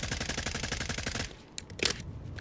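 A rapid automatic burst from the FSS Hurricane gun in a Fallout 4 mod, steady fast shots for just over a second before stopping, followed by a few brief metallic clicks and clanks.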